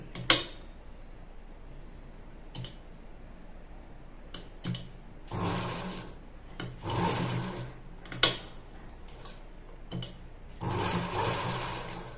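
A domestic sewing machine stitches the back side of a pot neck, running in several loud mechanical bursts of varying length separated by short pauses and quiet clicks, with no talking.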